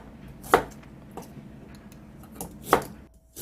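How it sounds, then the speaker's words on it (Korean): A knife cuts ginger into thin flat slices on a cutting board, making three distinct, sharp chops spread apart over quiet background. "생강을 납작납작하게 편을 썰어줍니다."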